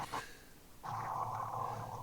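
A dog growls steadily at dogs being walked past, a low sustained rumble lasting over a second after a brief earlier sound, fairly close and alone.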